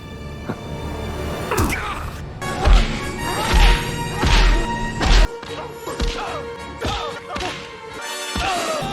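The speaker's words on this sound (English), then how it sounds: "they really seem to get those sound effects down for those punches" Melee punches land in the video game Indiana Jones and the Great Circle, several heavy thuds and sharp smacks spaced a second or so apart, loud and close, with whooshing swings between them and no talk.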